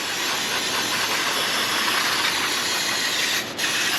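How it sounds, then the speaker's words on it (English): Brake cleaner sprayed onto the brakes of a Lexus LS 460: a loud, close, unbroken hiss of aerosol spray that cuts off with a brief gap near the end, then resumes. "We're just brake cleaning everything."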